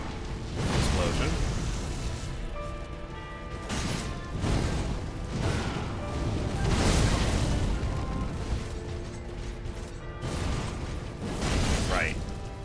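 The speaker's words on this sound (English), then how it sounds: "Explosion." Deep, booming explosions burst out several times at irregular intervals in Dark Souls 3 played with The Convergence mod, each heavy blast swelling and fading under ongoing game sounds.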